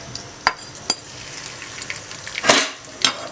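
Dry whole spices sizzle steadily in hot oil for a dhaba-style ridge gourd curry. A few sharp metal spoon clinks and stirring scrapes sound close by, with no talking.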